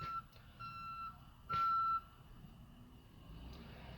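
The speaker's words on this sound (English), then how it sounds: "There's a tow truck backing up here." Tow truck reversing beeps, a few separate beeps repeating at a steady rhythm, with the longest and loudest near the middle, heard over faint outdoor background noise.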